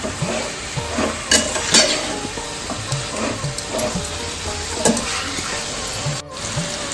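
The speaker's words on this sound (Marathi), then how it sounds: "चिकन आपण तेल सुटेपर्यंत परतून घ्यायचं" Close, continuous sizzling of marinated country chicken sautéing in oil for biryani, broken by periodic scrapes and stirring clatter in the pan.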